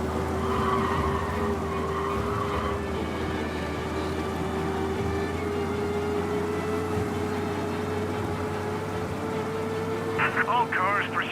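Engine of a car in the video game Mafia during a police chase, a steady loud drone with a sustained tone held throughout, tyre or skid noise near the end, and voices over it.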